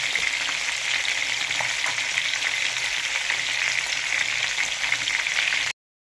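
Loud, dense sizzling of food frying in olive oil, continuous and close, with no voices, cutting off abruptly at the end.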